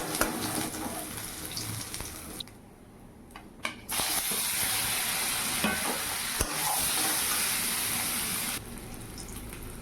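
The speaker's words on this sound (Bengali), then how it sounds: "ওই কড়াতেই এই যে তেল দিয়ে দিলাম ফোড়নে দেবো জিরে তেজপাতা আর আদা গ্রেট করে" Cumin seeds, bay leaf and grated ginger crackle in hot oil in a kadai, making a loud, continuous hiss near at hand that dips briefly partway through before surging back, with faint stirring and no talk.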